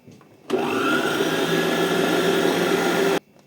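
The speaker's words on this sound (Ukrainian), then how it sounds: "Відправляємо збиватися наші жовтки." An electric mixer whirs loudly and steadily for about three seconds whipping egg yolks, starting and stopping abruptly, with no talking.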